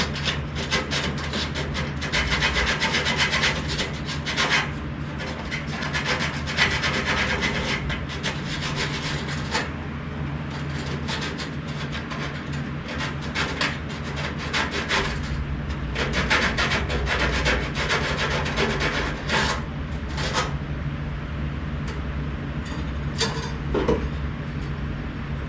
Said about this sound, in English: clean the burrs from the drill bit off so that it sits